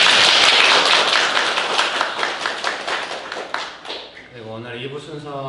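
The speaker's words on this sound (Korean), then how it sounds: "박수로." A church congregation at a Sunday worship service breaks into applause, dense clapping that thins into scattered taps over several seconds before a voice begins speaking alone at the end.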